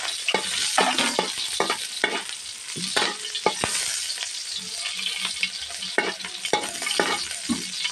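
Garlic and onion sauté in hot oil for pancit with a bright, continuous sizzle and frequent scraping stirs of a utensil against the pan, close and fairly loud, with no voices.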